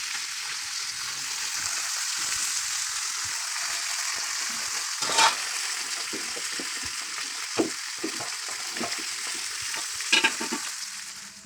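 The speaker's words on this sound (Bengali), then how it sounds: "দেখো এখন দুজন মাছ ভাজছে, পরে মাছের ঝোল হবে।" Fish sizzling as it fries in a pan, a continuous hiss of hot oil with occasional louder spits and crackles, close and steady, heard without talk.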